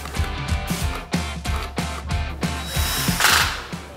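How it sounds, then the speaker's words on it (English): A power drill with a right-angle attachment whirs in short repeated bursts with brief pauses between, close by, ending in a longer, harsher grinding run. "I'm going in with this right angled drill attachment piece"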